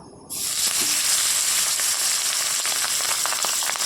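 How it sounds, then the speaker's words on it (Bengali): Pabda fish rubbed with salt and turmeric hit hot oil, and a loud, close sizzle bursts in suddenly, then holds as a dense, steady crackling spatter to the end. "এই পাবদা মাছ কিন্তু ফুটে ফুট ফুট করে ফুটতে থাকে"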